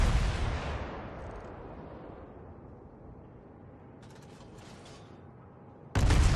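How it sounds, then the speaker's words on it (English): Warship main-battery artillery in the World of Warships naval game: a heavy salvo booms at the start and rolls away into a long low rumble, a faint mechanical whir follows, then another loud blast hits at the end. "let's just observe how the shells will travel once I shoot it"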